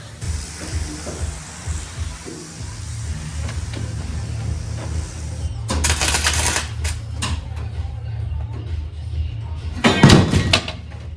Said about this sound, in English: So we'll get that welded in now